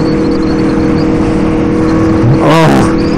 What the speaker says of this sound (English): Oh, such a fast bike